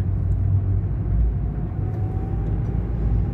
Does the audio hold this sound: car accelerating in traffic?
yes